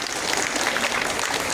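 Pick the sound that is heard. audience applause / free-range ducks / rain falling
audience applause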